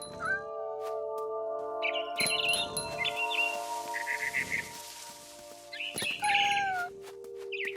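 Cat meows from the video game What Remains of Edith Finch, several short calls over steady tonal game music and chirping bird sounds, moderately close with no talk.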